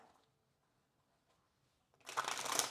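After near silence, tarot cards are shuffled briskly up close, a quick riffling flutter in the last second.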